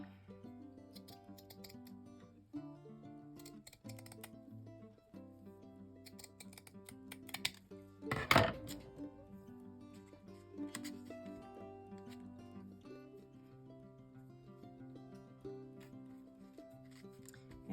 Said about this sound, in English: Cut it just on the edge of that crocheted part.